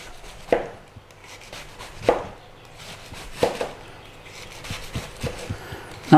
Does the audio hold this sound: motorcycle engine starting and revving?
no